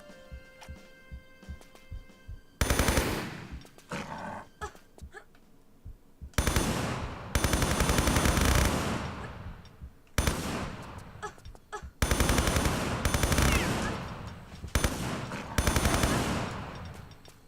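Loud bursts of automatic weapon fire in Tomb Raider III arrive in repeated close, rapid volleys, each ringing off into a decaying tail, with quiet stretches between.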